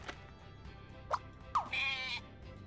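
A goat bleats in the video game Scribblenauts Unlimited: two short separate bleats, then a longer, louder wavering cry, all close and clear over a faint background with no talking.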